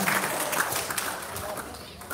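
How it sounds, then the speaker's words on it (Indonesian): Students clap together in a classroom during a police officer's outreach session on juvenile delinquency. The applause is a brief, moderately loud patter that fades quickly amid background voices. "Tepuk tangan dulu dong"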